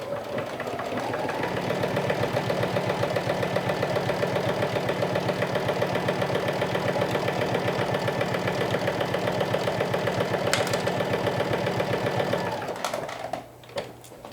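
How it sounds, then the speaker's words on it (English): A sewing machine stitches around the ponytail opening of a bucket hat, running loud and close in one continuous rapid, even burst for about twelve seconds before slowing and stopping. "we're going to stitch all around here with a 1/4 of an inch seam allowance."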